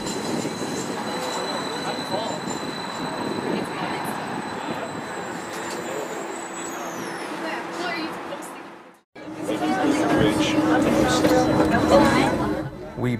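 Detroit QLine streetcar on opening week rolls along its rails with a steady rumble and high wheel squeal, carrying a nearly full load of passengers whose voices murmur throughout; the noise dips briefly then returns.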